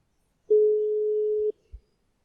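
A single telephone tone, one steady electronic beep lasting about a second, then a short low thump, with the call left unanswered.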